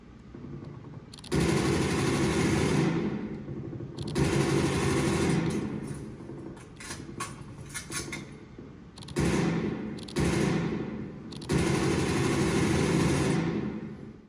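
Video game gunfire on a PlayStation 5 played with a DualSense controller, heard in several loud sustained bursts of rapid shots separated by short pauses, with no talking.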